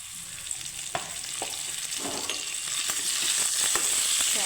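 Raw mango pieces hit hot oil seasoned with panch phoron and asafoetida for a sweet-sour pickle, setting off a steady close sizzle that grows fuller as they are stirred, with a few sharp pops and spatula scrapes.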